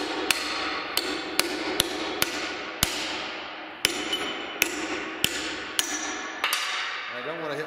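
A hammer pounds a fillet weld test tab clamped in a vise, about a dozen loud, sharp metallic strikes in a fairly even rhythm, ringing briefly after each blow.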